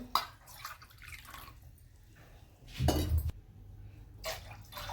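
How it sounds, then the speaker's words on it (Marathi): Water splashes into a pot in a few short pours, one fuller pour standing out midway, fairly quiet and close with light dripping between. "तीन वाट्या आणि ही अर्धी साडेतीन वाट्या पाणी टाकलं"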